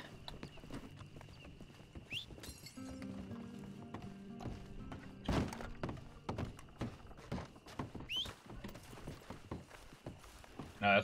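Horses' hooves clip-clop steadily in a western roleplay video game, with irregular thunks and clicks and occasional mechanical noises mixed in at moderate loudness, with no one talking.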